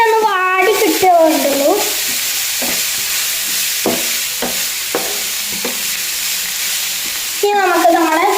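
A chicken filling for a bread sandwich fries in a pan, giving a continuous loud sizzle with repeated stirring scrapes and clinks through the whole stretch, plus short tonal squeaks near the start and end.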